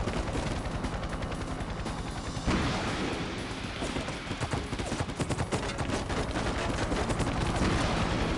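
A missile fired in the N64 game 007 The World Is Not Enough: a dense, loud, continuous roar of gunfire and rushing noise, with a sharper burst partway through and no talking.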